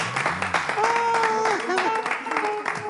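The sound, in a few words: audience applause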